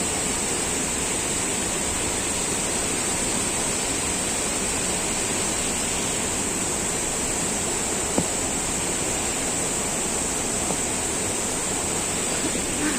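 Flowing water of a stream in the Konkan countryside, a steady broadband rush that holds unchanged throughout, close and fairly loud.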